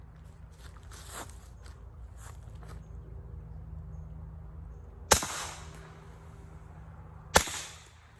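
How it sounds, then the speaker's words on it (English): A Kel-Tec Sub2000 carbine firing subsonic 9mm rounds outdoors: two sharp, fairly loud cracks a couple of seconds apart over low ambient hum and faint shuffling, each with a short ringing tail. "Now the next 3 shots will be the subsonic ammunition."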